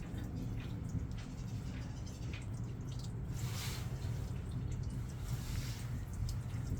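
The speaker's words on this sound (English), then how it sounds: "See, that's water coming from your tank." Fresh water from the tank of a 1999 Tiara 3100 Open boat runs through the freshwater pump, a steady close trickling and splashing flow that continues evenly without speech.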